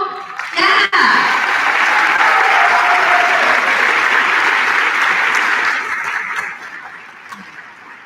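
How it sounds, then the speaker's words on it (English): Audience applause at a high school band spring concert, a loud burst of many hands clapping with some cheers mixed in, fading gradually toward the end. "If you guys could wave to us, please, so we can clap for you."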